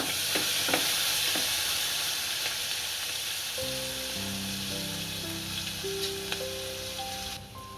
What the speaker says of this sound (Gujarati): આદુ મરચા અને લસણની પેસ્ટ નાખીશું. આને ચડવા દઈશું.